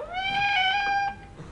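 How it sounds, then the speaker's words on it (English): A single drawn-out cat meow, clear and tonal, rising then holding before fading, close and loud in a quiet room. "what a windy meow"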